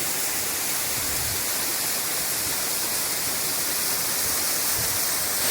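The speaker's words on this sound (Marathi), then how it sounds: "मित्रांनो हा वॉटरफॉल आहे ना जसा वारा येईल तसा चेंज होत आहे" Varjhot waterfall pouring steadily, a dense, continuous roar of falling water that stays near and loud throughout, with no voices over it.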